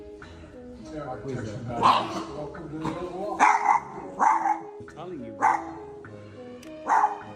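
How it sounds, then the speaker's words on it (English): A female pet dog barks in short, loud bursts spaced a second or so apart, agitated and close, while someone talks over and between the barks. "I don't know what's wrong with my dog."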